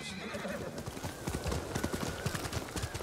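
Rhythmic clopping of horse hooves at a steady gallop in Ghost of Tsushima, fairly close, with a horse whinnying near the start.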